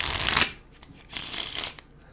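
Playing cards are riffled twice up close, two quick crisp bursts of flapping cards with a short pause between.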